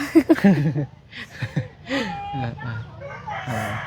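Chickens cluck and a rooster crows in a rural village yard, loud and close, mixed with people talking nearby in short bursts.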